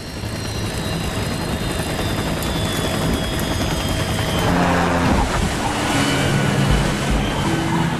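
Sikorsky S-92A helicopter ditching in the sea: a loud, steady rotor and turbine roar fills the whole stretch, thickening and growing rougher past the midpoint as the impact with the water arrives.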